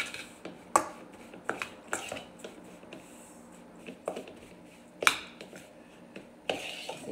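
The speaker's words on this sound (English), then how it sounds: "We're going to mix this all up." A spoon mixes cream cheese dough in a bowl, giving a scattered series of close, sharp clicks and scrapes with soft squishy movement between them and no talking.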